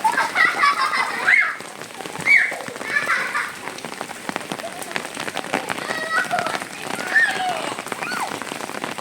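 Rain patters steadily on surfaces as children play in the downpour and floodwater, with excited high voices and splashing calls breaking through the constant hiss.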